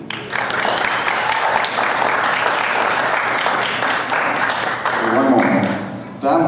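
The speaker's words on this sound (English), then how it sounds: "That one sort of deserved the applause" Applause from the audience at a live band show in a small theater and cafe, loud close clapping that runs for several seconds, with a voice starting to talk near the end as it fades.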